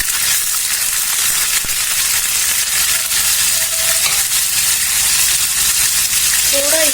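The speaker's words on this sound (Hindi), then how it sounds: "अब इसमें हम पनीर फ्राई करेंगे।" Paneer cubes fry in hot oil in a home kitchen for a veg thali, giving a continuous loud sizzle with occasional scrapes and stirring clinks, no voices over it.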